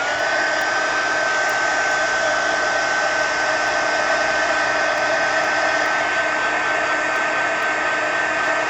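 A hair dryer blows steadily and loudly to dry paint on an art journal page, with a constant broadband whoosh and a steady motor whine running unbroken throughout, with no talking.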